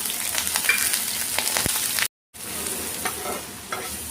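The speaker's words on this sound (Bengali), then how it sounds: "এবার সুন্দরভাবে একটু নাড়াচাড়া করে, যতক্ষণ না একটু লাল লাল হবে ততক্ষণ নাড়াচাড়া করেই যেতে হবে।" Chopped green chilli and garlic fry in a pan with a loud, dense sizzle while being stirred. The sound cuts to a brief silence partway through, then the crackling sizzle resumes, close and alone.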